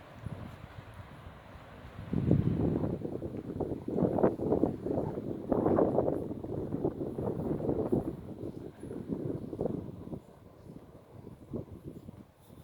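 Strong gusty wind buffets the microphone outdoors at a city landmark with an eternal-flame torch, a broad rumbling roar swelling and easing over several seconds, loud and close.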